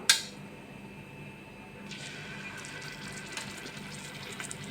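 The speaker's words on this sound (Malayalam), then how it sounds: "ഇനി ഇതിലേക്ക് മസാല പുരട്ടി വെച്ചിരിക്കുന്ന പനീർ ഓരോന്നായിട്ട് ഇട്ട് കൊടുക്കാം." Masala-coated paneer pieces frying in refined oil in a pan, with a sharp initial hiss as they go in, then a steady sizzle that grows busier and crackly, heard alone without talk.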